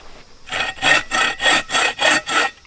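A hand saw cutting through wood in its kerf, six even back-and-forth rasping strokes, close and clear with short pauses between them.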